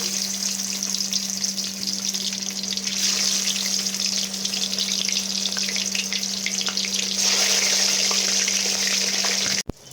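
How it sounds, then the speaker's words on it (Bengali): Pieces of bhetki fish fry in hot oil with a loud, steady sizzle and crackle that holds for the whole stretch, with a low electrical hum beneath and a brief dropout near the very end. "এবার এক এক করে মাছগুলোকে আমি ভেজে নেব"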